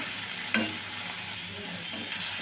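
Green chillies and tomato sauté in a pan for ridge gourd peel chutney, giving a steady, close hiss of frying with a single clink of the spoon near the start and no one talking.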